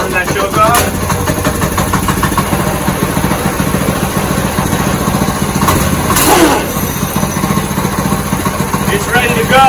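A go kart engine, freshly swapped in, fires up and settles into a steady, loud, close-up idle with a constant rough chugging, while a person talks nearby.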